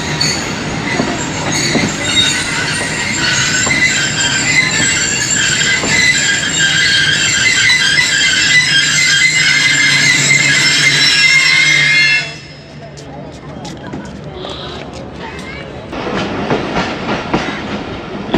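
The Allama Iqbal Express runs along the middle track after leaving Lodhran, loud and steady with clattering wheels and a high metallic squeal for about twelve seconds, then drops to a quieter rumble before the noise builds again.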